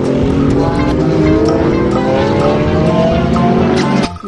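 A green toy racing car sounds off with a loud electronic race-car effect, a revving engine pitch climbing steadily with tire-squeal tones, close and continuous before cutting off abruptly near the end.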